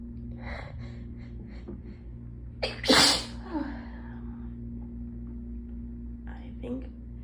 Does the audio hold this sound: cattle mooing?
no